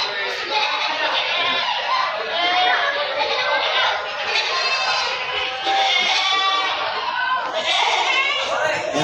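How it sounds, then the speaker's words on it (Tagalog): A herd of goats and sheep at a livestock sale bleats loudly and continuously, many overlapping calls close by, with occasional voices among them. "Ayan, ang tupa o."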